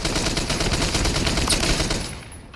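Rapid gunfire from a first-person shooter game, rounds fired through a wall, forms a loud, dense burst of repeated shots lasting about two seconds. A brief metallic ping follows, then the shots stop abruptly and the sound fades away.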